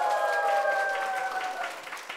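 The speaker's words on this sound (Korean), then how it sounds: "박수 한번 주세요." Audience applause at a televised lecture, a steady wash of clapping from a large crowd that holds evenly for a couple of seconds before easing slightly.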